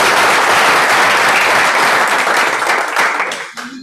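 A room of people at a brewing event gives a burst of dense clapping that stays strong, then thins and trails off, ending in a quieter murmur.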